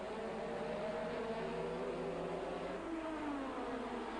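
1985 Formula 1 cars race at Monza, a faint, steady whining engine drone that holds throughout with slight pitch shifts as cars pass.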